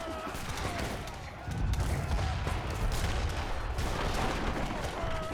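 Mortar fire in a real-time strategy game rumbles as repeated distant-sounding blasts and crackling gunfire, layered into a dense, continuous battle din with heavier thumps partway through.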